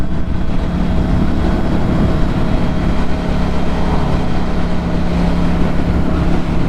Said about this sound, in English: It's one of those bridges where it's got like a grate and it kind of wants to pull the bike all over the place.